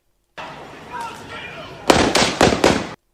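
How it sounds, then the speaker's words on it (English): Three sharp, loud gunshots ring out in quick succession from a recorded video, following a stretch of quieter background noise. "We're going to see three successive gunshots back to back."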